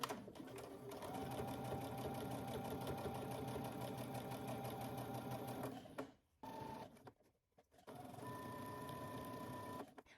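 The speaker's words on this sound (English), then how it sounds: "now I'm gonna top stitch close to the edge" A sewing machine top stitches close to the edge of a folded 1.5-inch sleeve hem. It runs as a steady, rapid stitching drone, stops briefly partway through, then resumes at the same even pace.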